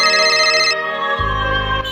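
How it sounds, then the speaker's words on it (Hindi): A phone ringtone plays loudly and close, a bright electronic melody of sustained tones that shifts midway, with no voices heard. "दीदी का फोन।"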